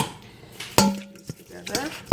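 Ingredients for a spicy shrimp Alfredo with sausage are mixed in a bowl, giving a few sharp clinks and a ringing tap of utensil against the bowl between quieter stirring scrapes, close and brief.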